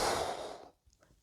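A single breathy exhale during a seated chair breathing exercise for seniors, a soft sighing rush of air lasting about half a second before trailing off into near silence.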